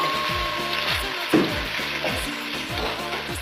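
Meat and turnip frying together in a pan for borscht, a constant close sizzle with repeated scraping and stirring strokes in a steady rhythm, no talking.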